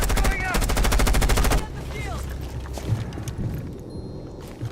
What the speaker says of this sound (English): Placing cluster charge. Cluster charge going up!